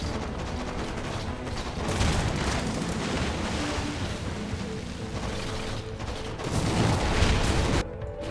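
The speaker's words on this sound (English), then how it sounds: "What's up with all the explosions?" Explosions and gunfire rumble through a Red Alert 3 battle, a dense, continuous barrage of blasts and crackling fire that swells louder in two bursts before cutting off abruptly.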